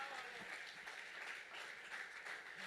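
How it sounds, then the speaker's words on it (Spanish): A church congregation applauds during a pastor's sermon, giving steady, dense clapping that fills the space throughout at moderate volume. "Dele ese aplauso fuerte a Cristo."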